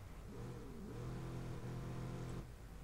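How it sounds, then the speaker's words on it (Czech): A car engine in the video game Watch Dogs revs and builds in pitch with a whistling turbo whine, holding steady for a couple of seconds before cutting off. "A tam je i to turbo slyšet úplně."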